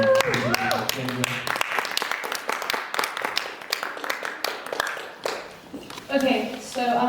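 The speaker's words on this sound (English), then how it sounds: "Please give a nice round of applause for Kathleen." Audience applause welcoming a speaker at a student talk event, steady mid-level clapping with voices at the start and end as the speaker begins.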